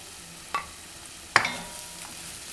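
Spices are stirred into a tomato and onion mixture in a pan for curried red kidney beans: two sharp scrapes of a utensil stand out over a faint low sizzle, close and brief, with no talking.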